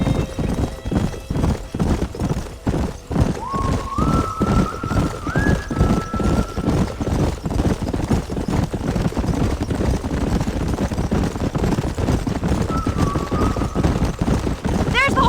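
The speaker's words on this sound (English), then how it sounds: "There's the horses!" Horses in the Red Dead Redemption video game clip-clop steadily at a gallop, hooves drumming close and continuous, with a few whinnies rising over the hoofbeats and game voices talking alongside.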